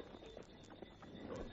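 Hooves of a horse pulling a cab through a street, a quick series of light, rhythmic clip-clops at moderate distance, faint and steady.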